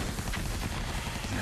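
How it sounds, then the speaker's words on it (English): Gunfire crackles in a dense, continuous burst during a wartime Christmas scene in a TV drama, loud and close with no clear pauses. "maybe the gunfire would sound like sleigh bells."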